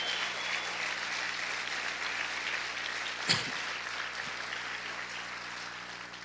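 A church congregation keeps up loud, sustained applause during a Spanish-language sermon, a dense even wash of clapping with one sharp thump partway through.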